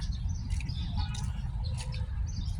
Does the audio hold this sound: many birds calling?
yes